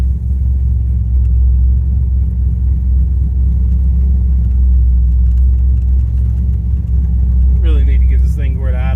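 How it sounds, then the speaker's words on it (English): An LS-swapped third-generation Camaro idles with a steady, loud, low rumble that drones on throughout, with a brief higher chirp near the end. "Really need to get this thing where it idles a little lower."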